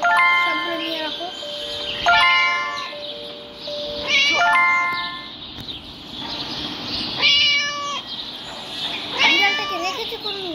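Repeated meowing from a cat in the video game Scary Teacher 3D, about five separate drawn-out calls spaced a couple of seconds apart, clear and close over a quiet game background.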